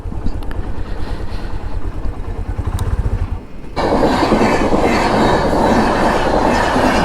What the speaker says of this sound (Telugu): ఏం ఫాస్ట్ చూడండి అసలు. ట్రైన్ అయితే